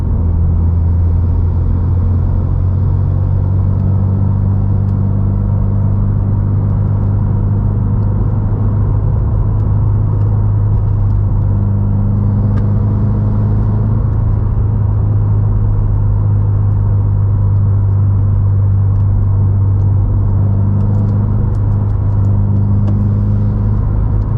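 Car driving on a road, heard from inside by a GoPro, a constant loud low engine drone and road rumble that holds steady throughout without speech.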